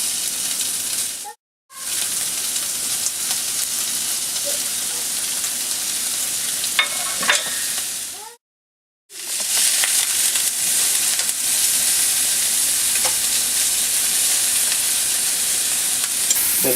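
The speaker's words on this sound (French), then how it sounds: "les lardons sont en train de rissoler" Bacon lardons fry in a hot pan with a loud, continuous sizzle and crackle. Two short silent gaps break it, and faint stirring taps are heard now and then.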